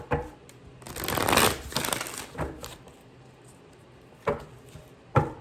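A riffled card shuffle rises into a dense flutter of cards, then fades, followed by two short taps as the deck is squared; no talking.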